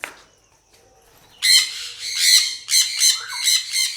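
Loud, harsh squawks from African Grey Parrot and Sun Conure chicks in a farm aviary, bursting in after a quiet start and repeating in rough, closely spaced calls.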